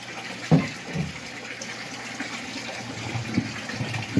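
About thirty litres of water pour into a homemade liquid soap mixture made from used cooking oil, giving a steady rushing gush with a few splashy knocks, close by and without talk.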